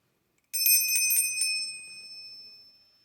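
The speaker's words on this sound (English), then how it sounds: "we're going to do this bell twice here." A bright, ringing bell is struck twice in quick succession, then its clear metallic tone hangs and slowly fades over the following two seconds, loud and close in an otherwise quiet room.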